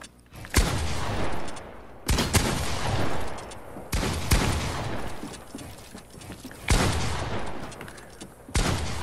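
Fortnite gunfire: four or five heavy, sharp shots spaced roughly every two seconds, each with a booming tail and echo, fairly loud with no talk between them.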